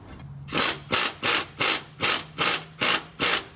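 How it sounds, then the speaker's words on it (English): A torque wrench tightens trac bar mounting bolts to 150 foot-pounds with eight even, rhythmic ratcheting strokes, each a close, loud rasp followed by a brief pause. "I'm torquing the mounting bolts to 150 foot-pounds"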